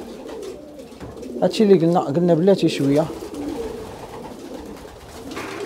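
Pigeons coo softly in a loft with a short run of rising and falling calls, heard alongside someone speaking nearby.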